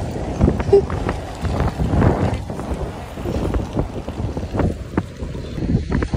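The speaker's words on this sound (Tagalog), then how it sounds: "Ayan, medyo mahangin na." Gusty wind under overcast skies in Cebu, Philippines, buffets the microphone with low rumbling bursts while a person talks over it outdoors.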